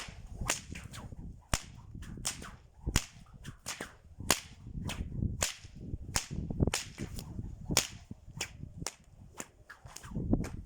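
Rapid, sharp cracks from a whip ring out one after another in a steady, fast rhythm, loud and close, with swishing swings between snaps.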